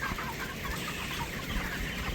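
Broiler chickens around 27 days old, roughly 1.4–1.5 kg, cluck in a poultry shed, a dense continuous murmur of many birds clucking at moderate volume with no talk.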